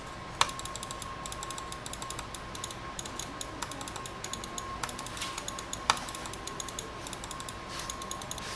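A Redragon M601-3 gaming mouse's buttons click in a quick, uneven stream, fairly quiet and close, with a few sharper clicks standing out.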